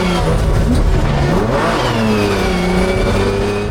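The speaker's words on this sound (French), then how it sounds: "on entend le moteur qui s'emballe pour que quand je relâche l'embrayage et que je reparte en glisse, le moteur soit déjà dans les tours" A BMW 1 Series drift car's engine revs hard and loud during a handbrake drift, a sustained high-rpm roar with pitch sweeping up and down, close and continuous with no talk.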